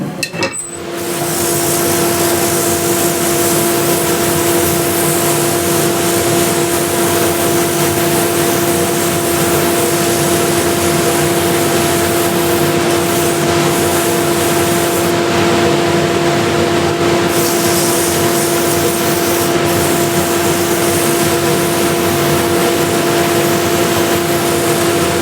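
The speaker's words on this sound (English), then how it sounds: "if I sand it real quick with 180 grit" A wooden bowl sanded with 180 grit sandpaper on a lathe gives a steady, loud whirring drone with a constant hum, running continuously and unbroken for the whole stretch.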